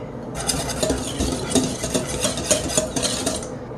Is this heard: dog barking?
no